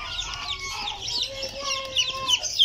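Brahma chickens cluck in a small backyard coop, a close, busy run of overlapping clucks and murmurs with higher chirps from chicks scattered throughout.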